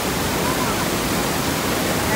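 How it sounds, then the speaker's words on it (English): Sinclair Falls near Radium, beside Roaring Creek, fills the air with a loud, constant rushing roar of falling water, steady and close with no pauses. "We found Sinclair Waterfall or Sinclair Falls."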